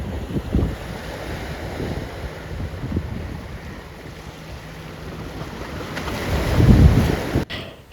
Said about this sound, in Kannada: ಮೀನುಗಾರರ ಬೋಟ್ ಎಲ್ಲ